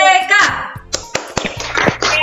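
Children in a primary classroom perform a rhythmic clap chant, with sharp, separated hand claps in a patterned sequence interspersed with their chanting voices, close and loud.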